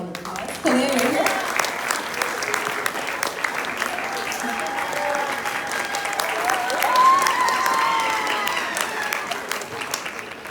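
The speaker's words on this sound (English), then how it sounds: "Let's give her a round of applause." Applause at a school prize-giving ceremony: a sustained round of clapping from the audience that swells toward the end, with some crowd noise mixed in.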